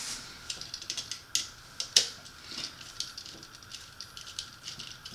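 Screwdriver tightening a screw on an Eaton electrical outlet receptacle, quiet scratchy metallic clicks and rattles in irregular bursts, close and faint.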